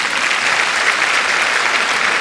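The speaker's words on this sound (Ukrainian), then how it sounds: "Встаньте, пожалуйста, пусть вам тоже поаплодируют." Steady, dense audience applause at a live concert, honoring the backing vocalists, with many hands clapping continuously and evenly throughout.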